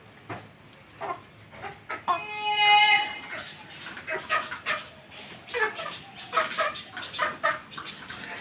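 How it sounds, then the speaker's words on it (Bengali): Desi chickens clucking and squawking close by in repeated short bursts, with one longer rising cry, while people talk over them. "এগুলি দেশি মুরগি তো, একবার ছাড়া পেলে"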